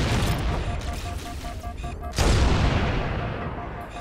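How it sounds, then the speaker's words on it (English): A Halo: Combat Evolved frag grenade goes off with one sudden loud broadband blast partway through, over ongoing game noise and a steady tonal hum, then a rumbling tail that slowly fades. "That's a frag grenade."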